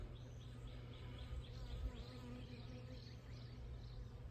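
A honey bee swarm hums around its queen in a faint, steady buzzing drone, with individual bees whining past nearby.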